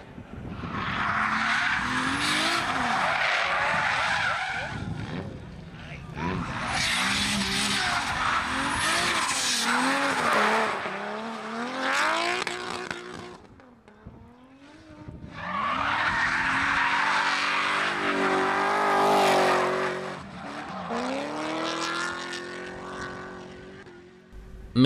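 Drift cars at a Bulgarian drift series round in Sapareva Banya roar and skid in long bursts, tires squealing loudly through sustained slides with revving engines, pausing briefly between runs.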